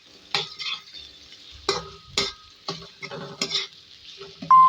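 Onions frying in a pan for a chicken dish, a soft steady sizzle broken by several distinct scraping stirs of a spoon against the pan, close and clear, ending with a short metallic tone.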